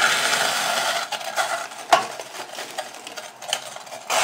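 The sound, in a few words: grinding dried bread into bread crumbs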